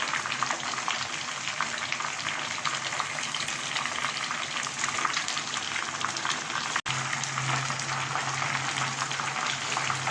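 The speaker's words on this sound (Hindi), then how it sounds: "लीजिए आपके सामने फ्राई हो रहे हैं और इनको फ्राई करने के लिए मीडियम हीट पर इन्हें फ्राई करना पड़ता है" Chicken wings deep-frying in oil over medium heat, a dense steady crackling sizzle that carries on close and unbroken, with a brief dropout near the end.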